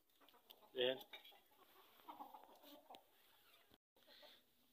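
A sick black hen gives a brief, close cluck over quiet room noise, followed by softer faint murmuring sounds.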